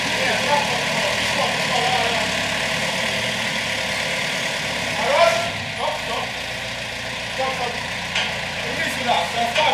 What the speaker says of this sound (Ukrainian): Зараз трактор заведеться.